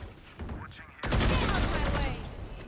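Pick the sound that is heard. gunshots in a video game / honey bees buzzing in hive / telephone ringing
gunshots in a video game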